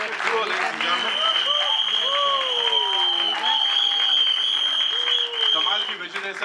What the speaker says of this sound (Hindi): दोनों के लिए एक बार जोरदार तालियां हो जाए